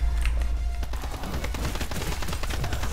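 Dense, continuous gunfire from the Công Trường (construction site) map of the Truy Kích shooter game: rapid overlapping shots crackle steadily for three seconds, loud and close, with no talking.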